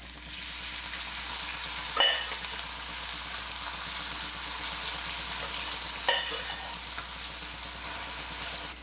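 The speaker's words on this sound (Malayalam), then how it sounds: "ഈ സോയ ചങ്ക്സ് നന്നായിട്ട് ഫ്രൈ ആയിട്ട് വന്നിട്ടുണ്ട്" Soya chunks frying in hot oil in a pan, a steady crackling sizzle throughout with two brief sharper stirring scrapes, close and fairly loud, no voices.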